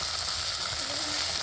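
Leftover-rice kurkure dough fries in hot oil, a dense, steady sizzle that fills the whole moment, close and fairly loud with no talking.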